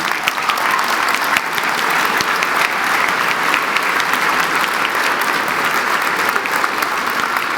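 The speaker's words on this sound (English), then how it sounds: "let's have another round of applause for the students that we're celebrating" An awards evening audience applauds the students being honored, a loud, sustained wall of clapping from a large room that holds steady throughout with no one talking over it.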